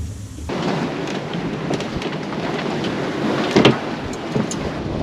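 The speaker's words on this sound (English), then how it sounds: "Nice to get some water on your face." Sea spray washes over a singlehanded sailboat on an ocean passage toward Hawaii, a steady loud rushing hiss of water and wind with a few sharper splashes, close to the microphone and free of speech.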